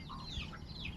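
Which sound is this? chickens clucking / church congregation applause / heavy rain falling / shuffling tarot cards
chickens clucking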